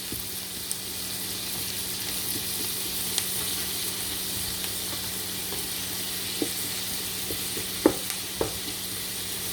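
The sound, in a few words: onion frying in a pan on high heat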